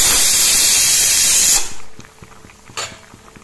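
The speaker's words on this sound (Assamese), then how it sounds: "ইয়াত উতলিবলৈ ধৰিছে।" Fish curry with cauliflower and potatoes boiling in a pot gives a loud, steady steamy hiss for about a second and a half, then cuts off abruptly, followed by quieter bubbling and one more short hissing burst.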